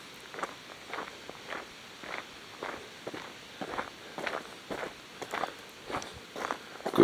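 Footsteps walking outdoors toward a pavilion: a steady, even rhythm of about a dozen soft, fairly close steps over seven seconds, with no talking.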